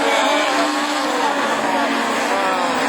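A Super 1600 rallycross car launches off the start line at the 2013 French championship in Châteauroux, a loud, sustained high-revving engine roar with faint commentary underneath.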